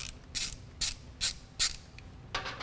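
A ratchet clicks in five short bursts, evenly spaced, while loosening the 1/4-inch Allen bolts on a Harley-Davidson's lower header mount. The bursts are close and fairly quiet, with no talking.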